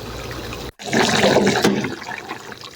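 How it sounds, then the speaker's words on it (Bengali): Hot water is poured into a pan of braised liver, a sudden loud gush and splash of liquid after a brief silence that then settles into a softer trickle and bubbling. "আমার কলিজা কষানো শেষ এখন দিয়ে দেব পানি"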